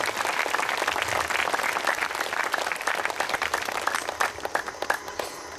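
An audience at a Buddha Poornima gathering claps loudly and steadily, the dense applause thinning toward the end into a few scattered, separate claps.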